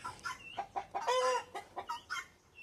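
Guinea fowl call repeatedly nearby, a rapid series of harsh, rhythmic squawks and clucks with one longer raspy cry in the middle.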